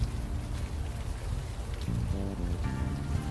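Steady rain falls on city streets in the adventure game Unavowed, a continuous close hiss of drops on the ground with low tonal background music entering partway through.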